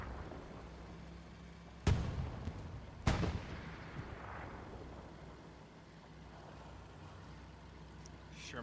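Two heavy booming impacts of tank shells striking a Sherman tank in a video game match, about a second apart, with rumble trailing off under faint background noise.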